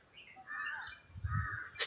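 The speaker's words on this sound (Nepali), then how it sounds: "यहाँनिर म तपाईँहरूलाई चराको एकदमै आवाजहरू सुनाउँछु ल" Outdoors, a crow caws twice at moderate distance, each call drawn out, with a low thump and a brief sharp noise near the end.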